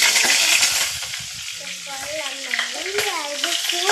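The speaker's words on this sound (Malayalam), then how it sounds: "അതിലേക്ക് കറിവേപ്പില ഇട്ടു." Curry leaves drop into hot oil with dried chili and fry with a bright sizzle. Faint talk runs underneath, and a tonal voice-like sound rises in the middle.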